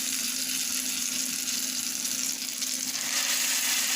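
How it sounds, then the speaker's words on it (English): Akara bean cakes deep frying in hot oil, a dense continuous sizzle and hiss with a steady low hum beneath, close and uninterrupted with no talking. "Make sure it's a deep fry"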